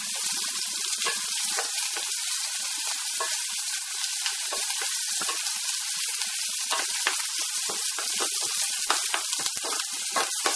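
Curry leaves sizzle and crackle in hot oil with chopped onion and green chili, a steady dense frying hiss with sharp popping spatters throughout, close and continuous with no talk.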